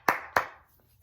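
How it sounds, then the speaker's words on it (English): Two sharp, close hand claps in quick succession, each ringing briefly before fading. "Round of applause."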